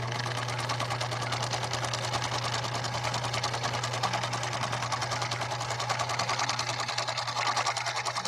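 A 1966 Husqvarna Viking 19E sewing machine sews continuously, giving a close, steady, fast-ticking mechanical hum with an even rhythm throughout.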